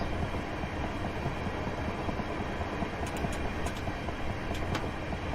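Class 375 electric multiple unit running along the line in Train Simulator 2018 on the London Victoria to Ramsgate route, a steady close rumble of wheels and traction with faint clicks, no talk.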